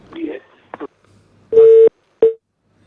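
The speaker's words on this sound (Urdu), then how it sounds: "یہ کال بھی ڈراپ ہو گئی ہے تو ایک اور کالر کو شامل کرتے ہیں" A telephone line on a radio call-in show goes dead after a dropped call: a few muffled thumps, then a loud steady beep tone followed by a second, shorter beep.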